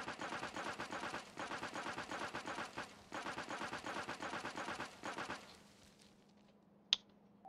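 Rapid machine-gun fire in Factorio, shooting down trees, runs in steady bursts for about five seconds before stopping, followed by a single sharp crack.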